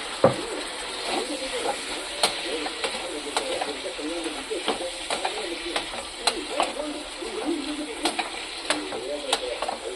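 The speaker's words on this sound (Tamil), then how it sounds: "சிக்கன் ஆட் பண்ணி வச்சு இப்போ அதை நல்லா வதக்கி விட்டுக்கலாம்" Chicken sizzles steadily in a hot pan while a utensil scrapes and stirs in sharp, repeated strokes, close by.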